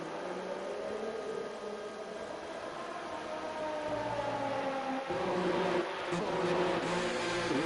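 Racing car engine in a video game at Silverstone's British GP, a sustained droning whine with shifting pitch rising as the car accelerates onto the track, steady and moderately loud.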